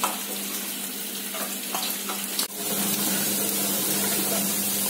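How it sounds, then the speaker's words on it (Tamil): Tamarind water poured into a pot of eggplant sambar, a steady continuous splashing pour with a brief break midway, close and fairly loud with no talking. "புளி தண்ணியை அதை ஊத்திக்கணும்"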